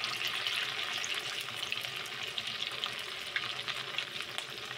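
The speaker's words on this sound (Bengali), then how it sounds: "একটা একটা করে সুন্দর করে লাল লাল করে ভেজে নেবে।" Pieces fry one by one in oil until browned, making a soft but continuous sizzle with light crackling and small bubbling pops, heard alone without any voices.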